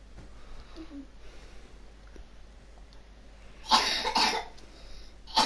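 A short burst of coughing, two or three harsh coughs close to the microphone after a quiet stretch, followed by a faint click.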